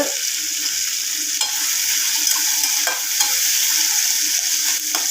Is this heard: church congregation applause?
no